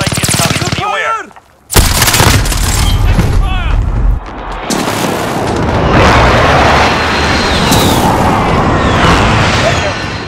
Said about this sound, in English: Allied precision airstrike is coming.